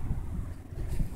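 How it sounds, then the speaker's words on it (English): Wind buffets the microphone in a low, gusty rumble, fluctuating briefly over about a second. "it is kind of chilly and it's windy"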